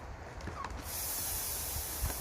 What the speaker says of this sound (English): I'll just pump it, spray a little bit.